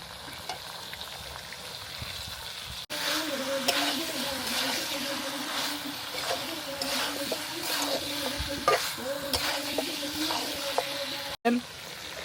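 Chopped tomatoes hit the pan and fry in a village-style spicy masala pork curry, a steady loud sizzle with scraping stirs running throughout after a quieter opening.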